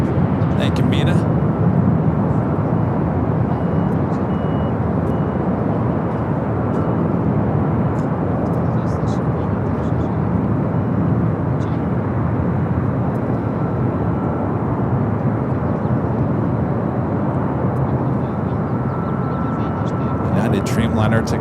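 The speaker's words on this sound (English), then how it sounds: "Dreamliner taking off there on the south side" A Boeing 787 Dreamliner takes off on the south side of LAX, its jet roar a broad, continuous wash heard from a distance that holds steady throughout, with faint ambient sounds nearby.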